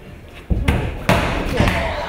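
Football shots thud against a goal wall during a one-on-one shooting duel, with two or three sharp impacts in quick succession under steady background noise.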